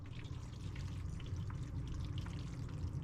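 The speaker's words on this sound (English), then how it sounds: "I got a little bit of barbecue sauce here. I'm going to try and pour it onto this plate." Thick barbecue sauce pours steadily onto a plate from a pot, a continuous low, soft glugging pour with no talking, heard close up in a home kitchen.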